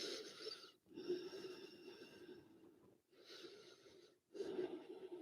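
Slow, deep yoga breaths during a flowing sequence, several long airy inhales and exhales separated by brief pauses, close and fairly quiet with no talking.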